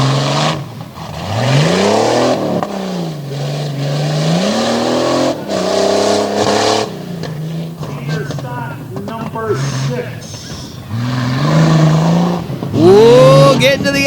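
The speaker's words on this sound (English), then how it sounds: "Pushing that Jeep as hard as he possibly can as he heads up over the tabletop." A Jeep launching hard off the starting line at Dragway 42 in a 2020 Cheater Stocks race, its engine roaring and revving through rising gear sweeps, loud and close, with an excited commentator talking over it throughout.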